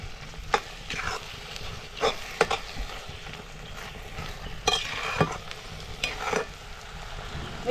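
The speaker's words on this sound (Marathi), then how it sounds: "चांगली अशी मिक्स करून घ्यायची." Egg mixture stirred and mixed in a pan in a Konkan home kitchen: repeated scraping strokes of the utensil over a soft steady sizzle, close and moderately quiet.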